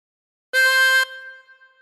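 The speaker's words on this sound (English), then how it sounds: "Blow into five twice." One harmonica note blown through hole five, held loud for about half a second with a faint lingering tail, with no voices and nothing else around it.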